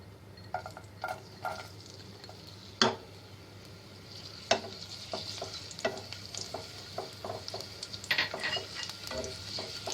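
Chopped garlic frying in olive oil in a kadai, giving a soft, quiet sizzle broken by scattered scrapes and light metallic clinks of a stirring utensil against the pan, with no talking.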